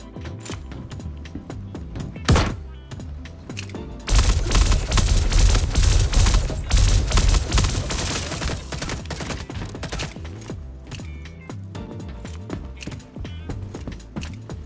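An Arclight pistol in the video game Star Citizen fires rapid bursts in a dense, loud volley with sharp cracks that overlap for several seconds, then thins to scattered shots and clatter.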